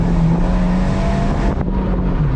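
Modified Abarth 124 Spider fitted with aftermarket springs and spacers, driven on a road: a steady, loud engine drone with a sustained low hum and road roar throughout, briefly dipping and shifting near the end.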